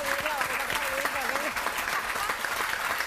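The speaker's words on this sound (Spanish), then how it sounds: "Eso vamos a aplaudir." A studio audience applauds with dense, steady clapping for a camera operator named Iván, while overlapping voices and a few shouts sound over the claps throughout.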